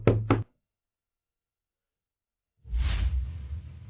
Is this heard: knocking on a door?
yes